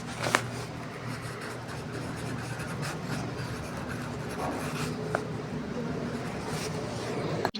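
Chalk writing on a classroom blackboard during a maths lesson: scratchy, uneven strokes with occasional sharper taps over steady room hum and background noise, at moderate volume.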